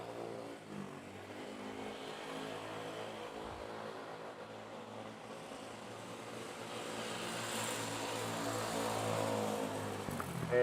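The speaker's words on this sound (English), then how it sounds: "Long landing from Bangkok, of course, international flight." An international passenger jet arriving from Bangkok and landing at Manila Airport, heard as a continuous distant engine roar that slowly swells louder toward the end, with no voices over it.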